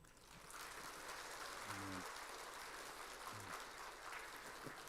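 A church congregation applauding newlyweds during a Sunday service: sustained, fairly faint clapping from a crowd, steady throughout with a brief voice underneath.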